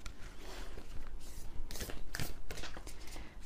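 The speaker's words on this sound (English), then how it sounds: "Shuffle the cards," Oracle cards being shuffled by hand, a quiet, close, irregular riffle and slide of card stock lasting a few seconds, with no talk.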